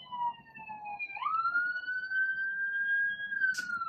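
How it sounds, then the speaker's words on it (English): A siren wails at moderate distance, its pitch sliding up and holding steady as it passes behind quiet room ambience. "as I'm recording, is when the siren decides to come"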